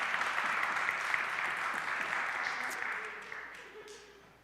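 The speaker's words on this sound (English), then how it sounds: "give her a round of applause" Audience applause in a room during a discussion on what a cathedral is, a dense steady clapping that gradually fades out, with faint voices underneath.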